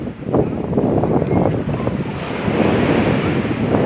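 Sea waves washing onto Sunset Beach in Dubai, a steady, loud wash of surf with strong wind buffeting the microphone throughout, no voices.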